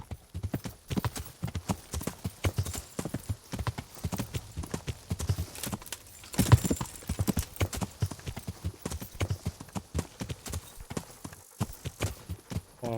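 A horse's hooves clip-clop at a quick, steady trot in the medieval game Kingdom Come: Deliverance, loud and close, with a brief whinny in the middle.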